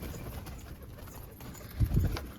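Pigeons in a flooded loft give low, soft cooing near the end, a couple of throaty burrs rising over a quiet, hissy background.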